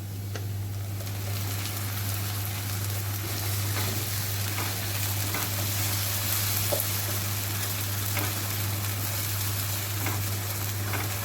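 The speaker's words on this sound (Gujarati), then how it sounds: "હવે એમાં આપણે ટમેટો પ્યુરી એડ કરીશું।" Tomato puree fries in a pan over browned onion and garlic paste for a homemade kadhai paneer, giving a steady close sizzle and bubbling hiss with a constant low hum underneath and no talking.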